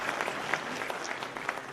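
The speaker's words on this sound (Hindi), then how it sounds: "जेल विभाग, वन विभाग, तीनों के लिए तालियां बजाएं।" Audience applause at an auditorium inauguration ceremony for state departments, a steady patter of many hands clapping, moderately distant and fairly quiet, with no talk over it.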